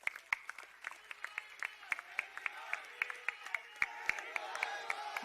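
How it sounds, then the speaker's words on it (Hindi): Sparse, fairly quiet applause from a crowd at an Indian political gathering as a speaker is welcomed, individual sharp claps rising out of a low hall murmur over several seconds. "मेरी मुराद है आपकी तालियों के बीच अरविंद केजरीवाल"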